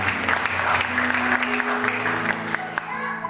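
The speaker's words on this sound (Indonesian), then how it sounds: "Mari kita sambut tepuk tangan." A crowd applauds steadily at a church retreat, clapping thickly throughout, with a voice briefly audible over it before it thins out at the end.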